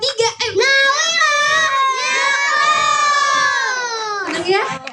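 A press-conference crowd, many of them children, shouts the name Nawila in unison on cue, a loud drawn-out chant that swells and holds before breaking into scattered cheers.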